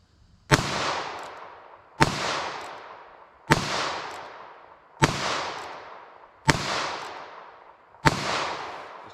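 Six sharp gunshots from a short-barrel .22 Magnum, fired at steady intervals of about one and a half seconds, each a loud crack with a brief decaying tail, no talking between them.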